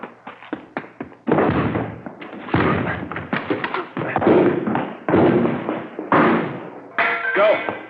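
Police officers break in doors in a radio drama, a series of heavy thuds and crashing impacts, first as sharp scattered knocks, then as longer splintering bursts, close and loud.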